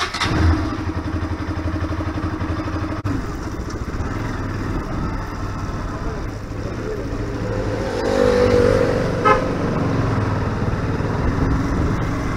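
A Bajaj Pulsar RS200 BS6 motorcycle rides at night, its engine droning steadily close by and rising slightly as it accelerates later on, with road and wind noise underneath.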